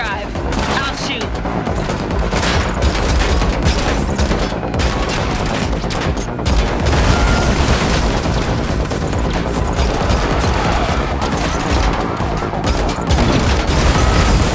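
Dense, continuous gunfire and booming shots during a car chase in The Matrix Awakens Unreal Engine 5 game, loud and sustained throughout with crashes mixed in.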